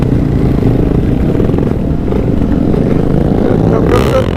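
A supermoto motorcycle engine runs loud and close, a low rumbling drone with rising revs, ending in a brighter burst as it pulls away.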